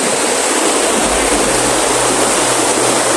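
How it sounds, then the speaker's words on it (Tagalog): Strong, fast-flowing water in a mountain stream roars continuously and loudly, a dense steady rush that fills the whole scene with no other sounds breaking through. "Baka hindi tayo magkaringgan yan kasi taas ng agos ng tubig."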